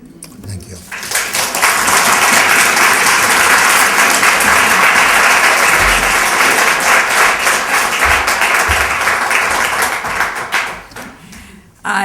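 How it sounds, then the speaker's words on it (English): An audience at a literary review celebration applauds after a poetry reading, the clapping swelling quickly into a loud sustained roar that holds for about ten seconds before tapering off, with a few voices briefly heard. "Let's give another round of applause for an amazing reading."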